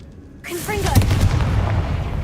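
A Confringo blasting spell is cast in Hogwarts Legacy: after near silence, a sudden whooshing burst hits with a cracking, gunshot-like punch and a rumbling fiery tail, with a shouted voice at the onset.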